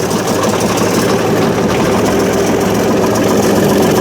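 A 2014 John Deere 2032R compact tractor engine running slowly at low revs, a steady, loud diesel rumble with knocking vibration, close and continuous.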